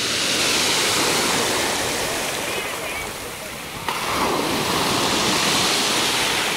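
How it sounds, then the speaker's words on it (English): Ocean waves break on a beach in Nice, France: a loud, steady broadband surf roar that dips briefly midway before surging back, with the wash of water continuous throughout. "The waves are incredible."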